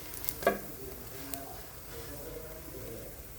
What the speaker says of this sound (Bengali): এখন একটু লালডা করে ভেজে নেব